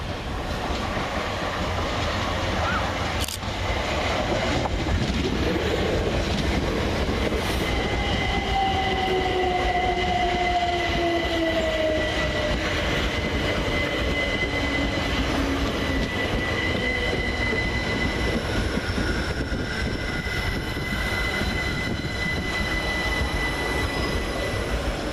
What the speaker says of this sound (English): Next in is 387-220 and 387-226 with the 1313 Southern Railway service of Brighton to London Victoria